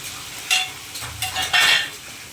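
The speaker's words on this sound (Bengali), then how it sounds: "এবারে আমি গ্রেট করে রাখা মশলাগুলো দিয়ে দেবো পেঁয়াজ আদা রসুন টমেটো" Onion, ginger, garlic, tomato and spices frying in a pan for a spicy crab curry, with three short bursts of scraping and sizzling stirring separated by quieter gaps.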